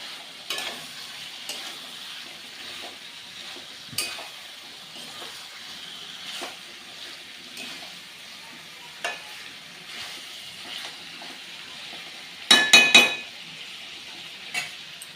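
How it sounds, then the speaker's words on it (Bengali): Potatoes fry with spices in a pan and get stirred hard, with a soft steady sizzle, scattered spatula scrapes and a quick burst of metal clanks near the end. "আলুগুলো দিয়ে মশলার সাথে খুব ভালো করে কষিয়ে নেব"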